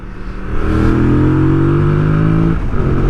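A 2025 Yamaha MT-07 motorcycle being ridden, its engine note climbing steadily in a smooth close-up drone before dipping briefly near the end.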